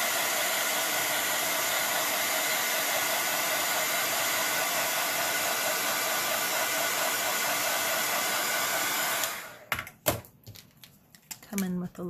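Hair dryer blowing steadily and loudly for about nine seconds while paint dries on a small rock fairy house, then switching off, leaving handling noises and brief speech.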